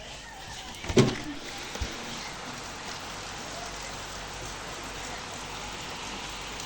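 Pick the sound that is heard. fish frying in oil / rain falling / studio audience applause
rain falling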